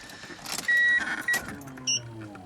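Walbro 255 fuel pump priming in an R33 Nissan Skyline, short electric whirring and beeping tones inside the car, a few brief pulses over a low background hum.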